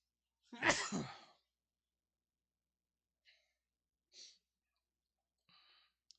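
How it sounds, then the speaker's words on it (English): A single sharp human sneeze bursts out close and loud, followed by a few faint breaths and small sounds in a quiet room. "gotta sneeze."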